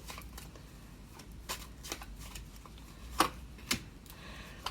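Tarot cards are shuffled and drawn at close range, giving quiet papery riffles and several sharp snaps and slaps of cards against one another in a hushed room.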